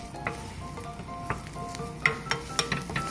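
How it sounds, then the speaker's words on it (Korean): Garlic stir-fries in a pan with a soft sizzle, punctuated by several sharp taps and scrapes of a utensil against the metal. "마늘을 넣어서 볶아주세요."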